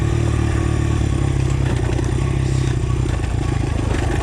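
A Honda XR motorcycle creeping down a steep, narrow hill in first gear: a steady, loud, close engine drone with a low throbbing rumble, mixed with rattling and scraping from the rough trail.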